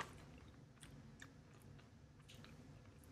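Granola snack crunched while being chewed, a few faint, close, crisp crackles scattered over quiet background with no talking.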